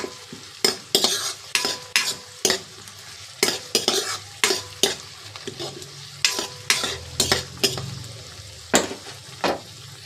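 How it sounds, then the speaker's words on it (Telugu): Curry leaves stirred into frying chicken in a pan: sharp, regular scrapes and clinks of a spoon over a crackling sizzle, close and clear, with no talking. "కరివేపాకు వేసి బాగా కలపాలి"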